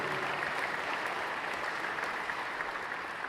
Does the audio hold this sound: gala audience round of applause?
yes